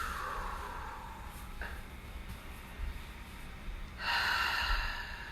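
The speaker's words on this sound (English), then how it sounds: "Nice, long, smooth, deep breaths." Slow, deep breaths during a yoga session, a soft airy inhale easing off, a brief catch midway, then a stronger, brighter exhale rushing out near the end, close and alone with no talking.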